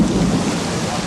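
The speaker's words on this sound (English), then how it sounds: "The rain has finally returned to Florida's Everglades." Torrential rain pours over Florida's Everglades with rumbling thunder underneath, a dense, steady, loud roar that fills the whole moment with no letup.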